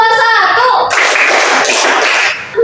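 A primary-school class of fourth graders claps a rhythm pattern of two claps then one, loud and close, with a dense burst of many hands after a sung or spoken opening.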